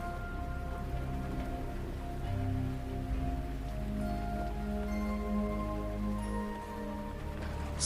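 Steady rain falls in a continuous soft patter over a low rumble, unbroken throughout with no voices.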